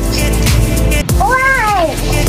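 A single drawn-out cat meow rises and falls clearly and loudly, following a brief burst of sound, with no talking over it.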